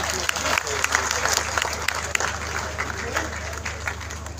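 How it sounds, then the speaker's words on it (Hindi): Dense, sustained applause from a large indoor audience at a party members convention in Gulberg, Lahore, a continuous crackling clatter of many hands, with a low steady hum from the sound system underneath. "इनको वेलकम करें तालियों के साथ"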